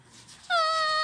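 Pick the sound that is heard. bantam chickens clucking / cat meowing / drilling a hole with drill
cat meowing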